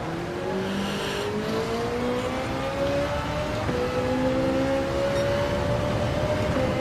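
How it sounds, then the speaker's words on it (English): Race car engine note in the Gran Turismo racing game, rising steadily in pitch as it approaches, with faint siren-like whine overtones; loud and continuous with no talking. "I can hear a car now"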